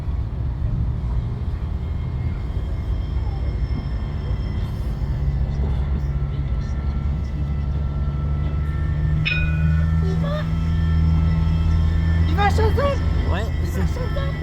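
Two Alstom trams coupled in formation run past heading toward Chalezeul, a steady low rumble and hum of motors and wheels, with a brief squeal and people talking nearby throughout.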